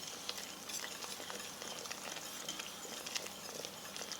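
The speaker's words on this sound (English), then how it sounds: "I do recommend, obviously, because I'm using one, a wire whisk versus trying to do this with a wooden spoon." A wire whisk stirring meatball stroganoff sauce as it thickens in an Instant Pot, a continuous busy scraping and bubbling patter, faint and even.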